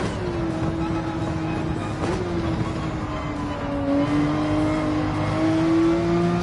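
A race car in Gran Turismo 7 accelerates on track, its engine note climbing steadily and loud close up, with a brief dip around a gear change before rising again.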